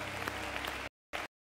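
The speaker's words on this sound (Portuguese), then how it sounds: "Vamos aplaudir a Jesus." A church congregation at a Sunday service claps in a dense, steady round of applause, then a brief final burst after a short break.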